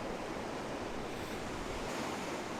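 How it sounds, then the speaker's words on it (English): Ocean waves crash against seaside rocks on a windy day, a dense, continuous roar of surf and wind noise at steady loudness with no voices. "the waves just crashing in like that"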